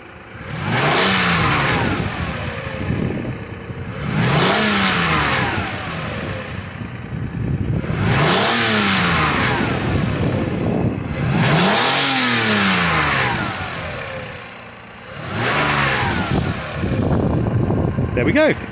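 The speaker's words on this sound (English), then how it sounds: "Now we're going to rev it 5 times for you." Five distinct revs from a high-mileage Lexus RX300 SE-L engine, each rising to a loud, sweeping peak and falling back toward idle, spaced about every three to four seconds at close range.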